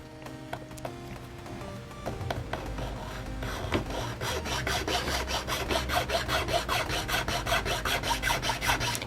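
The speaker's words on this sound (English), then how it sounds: "it's better to count and make sure you apply the same pressure every time you file the torso" A metal file rasps steadily against a plastic minifigure torso, close up, its strokes speeding into a fast, even back-and-forth rhythm that grows louder after the first couple of seconds.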